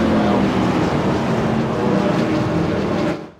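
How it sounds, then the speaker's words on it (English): Race cars roar together in a restrictor-plate racing video game at Talladega, a loud steady engine drone from a pack of cars that cuts off abruptly at the end, no talk. "I know the cars was probably a little loud"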